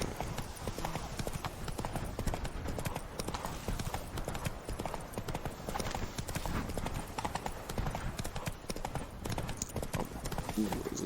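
Horse hooves clip-clopping at a gallop in The Witcher 3, a steady rhythmic drumming under game music and ambience, with a voice talking over parts of it.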